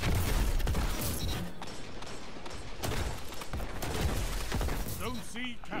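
Badlander shotgun firing during a Destiny 2 multiplayer match, heavy blasts buried in a constant dense wash of game effects, explosions and mechanical clatter, with no clear gaps between them.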